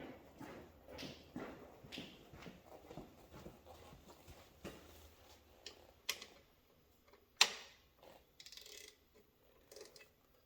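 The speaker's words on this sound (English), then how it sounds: "Ratchet." Ratchet wrench clicking in quick, faint rhythmic bursts while removing an ATV swingarm and axle on a Yamaha Raptor, with a few sharper metallic clanks and taps nearby.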